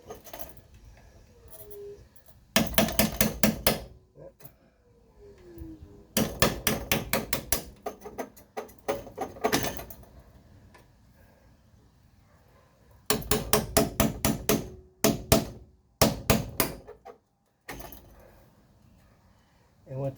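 Bursts of sharp metallic hammering as a chisel tool cuts through car body spot welds, striking in rapid series, loud and close, with quiet pauses between the groups.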